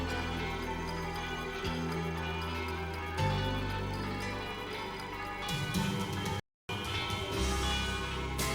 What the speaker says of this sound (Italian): Campane a feste è la voce di Morsano